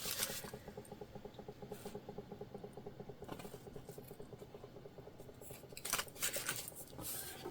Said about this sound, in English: So we're trimming off the excess elastic. And then we'll also trim up our threads here too.